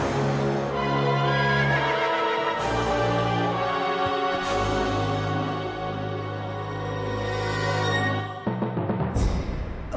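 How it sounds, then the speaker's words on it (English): Ganon's massive black horse in the Twilight Princess video game neighs in a long, loud whinny with sustained tonal cries, followed near the end by a few sharp hoof-like knocks. "Ganon, astride a massive black horse."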